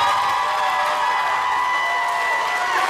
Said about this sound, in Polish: Wielki brawa dla składu jurorskiego